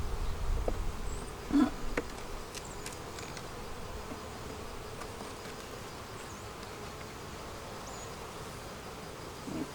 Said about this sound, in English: this frame has got some bees on it